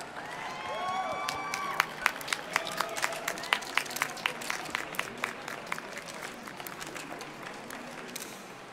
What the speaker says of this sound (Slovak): Na konci ich čakal neutíchajúci aplauz.